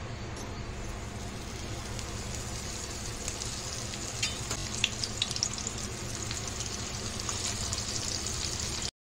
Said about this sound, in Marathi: गॅसवर तवा ठेवलेला आहे। त्याच्यामध्ये 2 पळी तेल टाकलेलं आहे। आपण पापलेट फ्राय करून घेऊया।